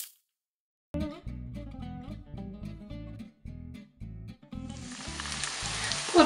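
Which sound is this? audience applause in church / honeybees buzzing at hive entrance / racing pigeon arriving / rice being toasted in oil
rice being toasted in oil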